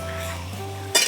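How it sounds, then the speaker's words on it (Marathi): Spring onion greens stirred and sautéed in a pan over a village-style wood-fired stove, a soft continuous sizzle with a constant low hum, ending in a sudden louder scrape of the spatula against the pan. "ही भाजी ना अशी मस्त परतून घ्यायची"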